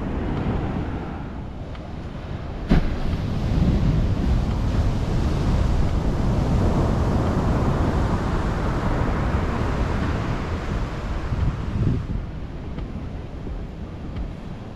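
Pacific surf rolls onto a beach in Cabo San Lucas, a loud, continuous wash of waves with heavy wind buffeting the microphone throughout.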